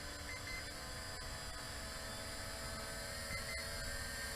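A small Holystone HS165 foldable GPS drone hovers and comes down to land on a table, its rotors giving a steady, faint high-pitched whine that holds constant throughout.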